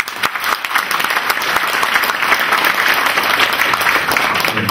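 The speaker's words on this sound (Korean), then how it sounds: "정복원 선생님을 힘찬 박수로 맞이해주시기 바랍니다" Audience at an invention-education conference applauds steadily, welcoming a teacher to the stage, a dense, close clatter of many hands sustained throughout with no talk over it.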